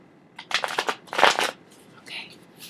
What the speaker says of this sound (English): My little Vegas shuffle.